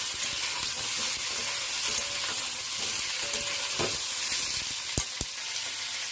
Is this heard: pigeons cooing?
no